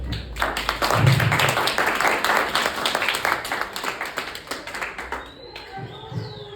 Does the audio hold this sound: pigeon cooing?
no